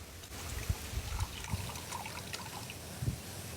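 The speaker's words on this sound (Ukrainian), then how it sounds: "наливаю собі пивка." Light beer is poured into a glass, giving a soft close trickle with a few gurgling glugs and small clinks, fairly quiet throughout.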